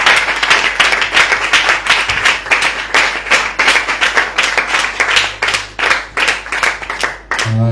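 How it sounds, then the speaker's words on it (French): Rhythmic group clapping by a church congregation in a steady beat, many hands together, continuing for several seconds with a room echo. "applaudissez pour le Seigneur"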